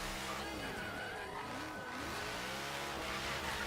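The RJ Anderson truck drifting in the Forza video game: a steady engine drone with rising and falling revs and a tire-squeal sheen, heard faintly and on its own.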